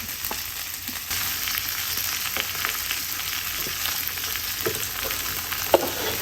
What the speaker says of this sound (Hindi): प्याज को थोड़ा सा फ्राई करेंगे, ज़्यादा नहीं करना, सिर्फ इसको थोड़ा सा नरम करना है।